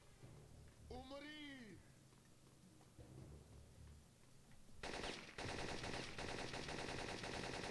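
An assault rifle in a PlayStation 1 game fires a sustained, harsh automatic burst in the last few seconds, after a stretch of quieter game sounds and a voice.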